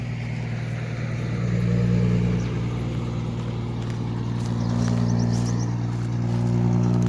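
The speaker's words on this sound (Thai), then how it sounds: "รถบรรทุกไม้นะครับ" A heavy timber truck rumbles past on a dusty rural road beside an irrigation canal, its low engine drone steady and fairly loud, swelling slightly as it goes by.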